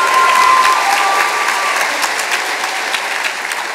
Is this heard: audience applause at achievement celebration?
yes